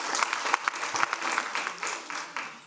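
Audience applause breaks out at a Board of Education meeting, a few seconds of dense, steady clapping from a room of people with sharper individual claps standing out, fairly close and with no talk over it.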